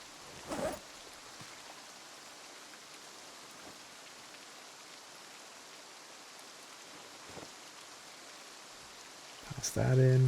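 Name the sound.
rain falling in the video game Project Zomboid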